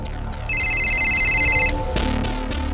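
A telephone rings with a bright electronic tone held for about a second, close and loud over a low background hum, followed by a few sharp clicks.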